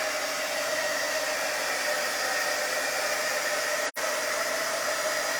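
A hair dryer blows a steady, loud hiss of air over wet ink on a sign, continuous and close, cutting out for a split second before resuming.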